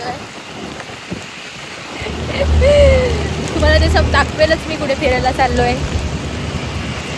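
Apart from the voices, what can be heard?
heavy rain falling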